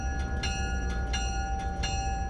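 A train pulls out of the station at Campo with a locomotive pushing a couple of passenger cars. Steady, even rumble sits under repeated metallic clanks and ringing tones, fairly close and with no talking.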